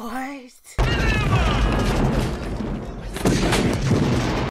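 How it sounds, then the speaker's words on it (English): A grenade launcher fires and a big explosion follows in the 1987 film Predator, a loud sustained blast with rumbling gunfire and crashing debris, heard after a brief voice. "that boy's shooting a grenade launcher. Wow. That's such a big explosion"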